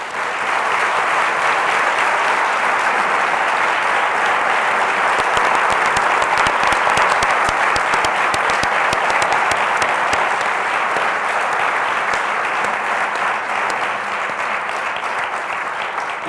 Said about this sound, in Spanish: Le damos un aplauso a Plácido.